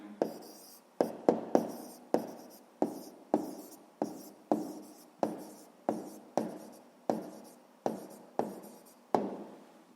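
Pen writing out a sixth-grade math answer on paper, a close series of about a dozen quick scratchy strokes in a steady rhythm, each stroke sharp then fading, with no voices.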